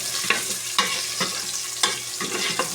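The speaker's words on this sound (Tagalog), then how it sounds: "gisa-gisa." Onions sautéing in a pan, a steady sizzle broken by a few sharp scrapes of stirring at regular intervals, close and fairly loud with no talking.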